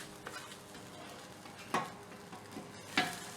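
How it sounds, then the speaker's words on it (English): Egg fried rice with onion and garlic frying in a pan, a steady close sizzle broken by a few scraping stirs, with no talking. "Let it continue frying,"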